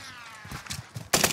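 Video game gunfire in a tense firefight: a few scattered shots early on, then a loud, dense burst of rapid fire near the end, all fairly close.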